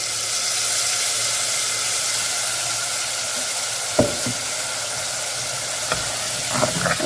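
Ground green masala paste sautéing in oil for a fish curry, a steady close hiss of frying with a few sharp clicks and taps near the end, no talking.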